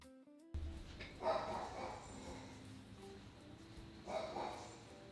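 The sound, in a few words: dog barking at garbage man outside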